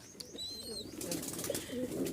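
Soft, low pigeon cooing murmurs in the background from breeding pairs nesting in pots, with faint chirps and a quiet ambient hum.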